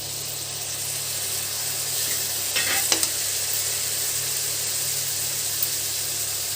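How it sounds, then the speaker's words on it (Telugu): Chopped tomatoes sizzle in a pan over ginger paste and turmeric, a continuous loud hiss with a brief burst of stirring scrapes midway, close and without speech. "ఇప్పుడు టమాటా వేసుకున్నాం"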